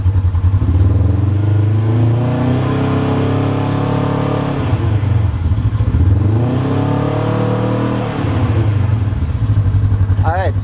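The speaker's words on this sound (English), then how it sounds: "then we'll rev it up and see that it increases a little bit" Polaris RZR 900/1000 side-by-side engine running steadily loud and close, its pitch rising and falling as it is revved a few times during a charging-system check, with a brief higher whine near the end.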